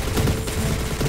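A sniper shot fires in the tower-defense game Legacy of Defense, landing in a dense burst of loud, rattling game gunfire that fills about a second with no voices.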